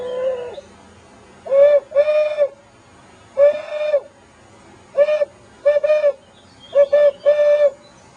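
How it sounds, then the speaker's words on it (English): Owl hoots played or called near a large stream on a nature walk at Sugar Creek, a series of short, clear hooting calls in paired and triple bursts with quiet gaps between. "this is owl."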